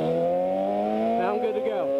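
A motorcycle engine pulls away from a stop at a green light, its pitch rising smoothly as throttle is applied, then climbing again after a brief dip, close and steady beneath a rider's voice.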